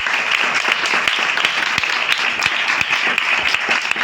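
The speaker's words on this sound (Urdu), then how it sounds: "آپ اپنی تالیوں سے بھی بتا سکتے ہیں" An audience at a religious gathering breaks into lively applause, a crowd of hands clapping densely with distinct sharp claps standing out, loud and close, steady throughout with no speech.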